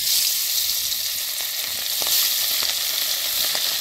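Chela fish, a small river fish, fry one by one in hot mustard oil in a karai, a dense, steady sizzling hiss with small crackles and pops, close up and without any talking.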